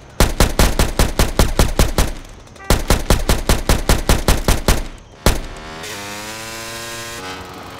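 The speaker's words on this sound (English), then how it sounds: "Shooting that thing right next to my ear." Automatic gunfire in GTA San Andreas, rapid evenly spaced shots in two loud close bursts, then one sharp shot and a fading ringing tail.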